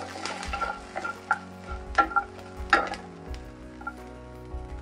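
Garlic, ginger and green chillies frying in a pan, a soft steady sizzle broken by repeated clinks and scrapes of stirring, close and fairly quiet with no talk.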